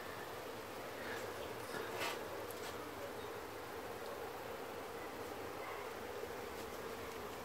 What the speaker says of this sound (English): there they are, you know, about an hour later after the inspection, doing an orientation flight.